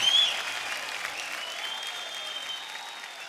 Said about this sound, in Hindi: एक बार जोरदार तालियां हो जाए शक्ति जी के लिए और पत्नी जी के लिए।